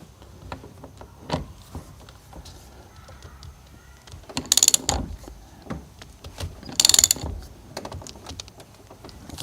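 A nut being threaded back on and tightened on the ignition lock of a 1989 Chevy Silverado OBS truck, heard as close, scattered metallic clicks and ratcheting taps with a couple of louder bursts, no talking.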